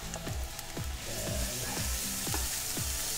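Chopped garlic and caramelized onion sizzle loudly in a hot pan, a dense hiss with several rhythmic scraping stirs of a utensil, heard up close with no speech.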